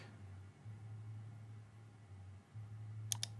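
A computer mouse gives two quick, faint clicks in close succession near the end, heard over a low steady hum in a quiet room while working in design software.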